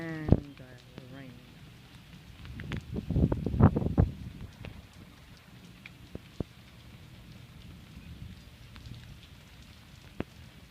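Rain falls in a yard as a soft, steady patter with a few louder drops, while a voice speaks briefly near the start and middle.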